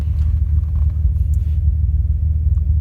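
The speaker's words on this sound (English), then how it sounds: "you can hear me going into reverse. I just revved it up so you can hear that" Manual transmission car idling in reverse, its engine giving a loud, steady low rumble close to the listener with no talking over it.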